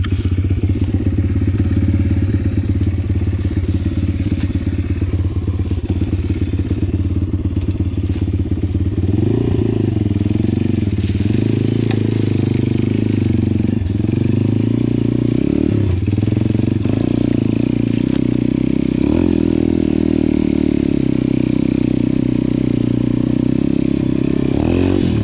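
A Pitgang 140 pit bike rides steadily and up close, its engine droning continuously with a few revs and gear changes, plus occasional clatter and thumps over rough ground.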